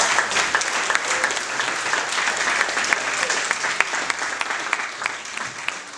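Audience applause at a Rotary and Interact club charter ceremony in Ljubljana, a steady dense clapping from a crowd that continues throughout with sharper individual claps standing out.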